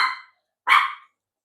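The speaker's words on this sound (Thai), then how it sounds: "มันเล่นอยู่กับเพื่อนดีๆ มันก็ยังเห่าอ่ะ" A dog barks twice, each bark short and loud with a pause between, close by and with no talk over it.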